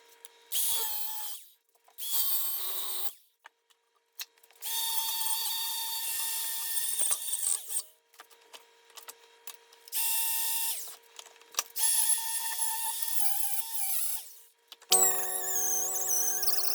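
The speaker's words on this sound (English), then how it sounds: "I'm going to take the wire wheel, clean this up best I can" A wire wheel scrubs a Polaris RZR transmission case clean, loud grinding bursts repeating in several long passes with short pauses between, ending on a higher-pitched whine.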